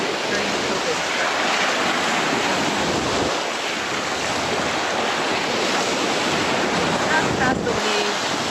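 Ocean surf breaks and washes steadily onto a beach during a sea turtle release, a continuous loud roar with wind buffeting the microphone throughout.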